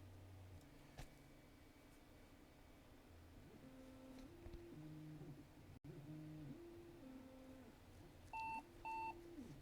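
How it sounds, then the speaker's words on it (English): A Compaq Portable III computer emits a pair of short, sharp electronic beeps near the end while trying to read its drive, preceded by quieter tonal chirps over a faint hum. "Beep, beep. It's trying to read the drive."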